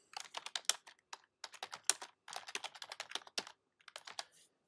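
Typing on a computer keyboard, close and fairly quiet, in quick irregular bursts of keystrokes separated by brief pauses, with no talking.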